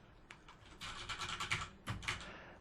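Keys clatter on a computer keyboard while a variable is typed into a code editor: a short, close burst of irregular keystrokes with a brief pause, with no voice heard.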